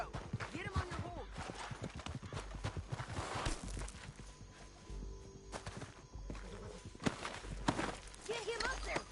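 A horse walks in the Red Dead Redemption 2 video game, its hooves clip-clopping steadily under almost constant talking voices.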